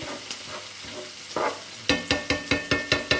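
Fish fries in an electric pan, a steady sizzle broken by a rhythm of sharp, evenly spaced scraping strokes in the second half, loud and close with no talk.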